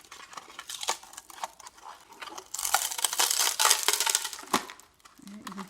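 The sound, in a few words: dried papier-mâché cage crackling away from burst balloon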